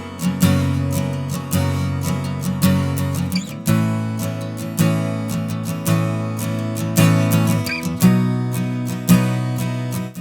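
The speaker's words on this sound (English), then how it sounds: "The coolest effect is the stereo widening." A saturated stereo-widened instrumental loop through the JMG Sound DarkFire saturation plugin, with steady rhythmic bass and bright, dense harmonics pulsing in a repeating groove, loud and continuous with no talking.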